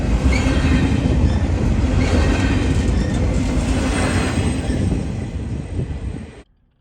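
A freight train of empty cars rolls past close by, a loud steady rumble of wheels and rattling wagons with faint squeals, which fades somewhat before cutting off.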